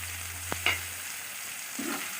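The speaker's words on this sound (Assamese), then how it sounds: "এয়া পিঁয়াজখিনি ভজা হৈছে, এতিয়া মাছৰ কণীখিনি দি দিছে।" Fish roe frying with onions in a pan, a soft steady sizzle with a couple of sharp clinks of a spoon against the pan and a brief stir near the end.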